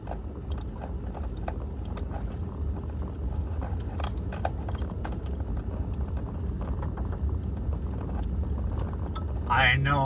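A vehicle rolls slowly down a steep, washed-out dirt mountain road on Mount Coolidge in Custer State Park, South Dakota, giving a steady low rumble with scattered clicks and jolts throughout, ending in a brief louder burst.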